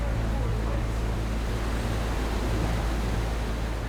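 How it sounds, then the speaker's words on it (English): Rushing water of an underground cave streamway roars on as a steady, loud, dense wash with no break. No voices are heard over it. "communication's harder because you've got all that Streamway noise"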